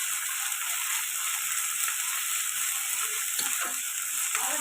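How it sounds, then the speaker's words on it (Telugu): Ginger garlic paste fries in a pan with a dense, even sizzle that holds steady throughout, with a couple of faint stirring scrapes near the end. "ఇది కూడా పచ్చివాసన పోయేదాకా ఫ్రై చేసుకోవాలి"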